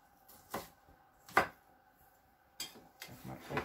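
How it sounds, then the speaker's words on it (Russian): A knife chops an onion on a board for frying, with a few faint, irregular chopping knocks separated by quiet gaps. "Я лучок нарежу, поставлю его зажаривать."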